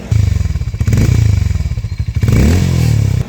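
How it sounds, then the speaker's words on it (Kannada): A motorcycle with double suspension and a bassy aftermarket exhaust silencer idles and is revved up close, its deep, throbbing exhaust pulsing loudly throughout with a couple of brief blips in engine speed. "ಸಖತ್ ಬೇಸಿ ಸೈಲೆನ್ಸರ್, ಫುಲ್ಲು ಬೇಸಾಗಿ ಸೌಂಡ್ ಬರುತ್ತೆ"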